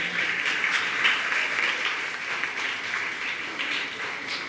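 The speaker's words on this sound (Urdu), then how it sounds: "اچھا ان کے لیے آپ نے سب سے زیادہ تالیاں بجانی ہیں" An audience at a talk on children's mental health applauds for parents, a dense, sustained round of clapping from many hands that swells slightly and carries on steadily throughout, close and without talk.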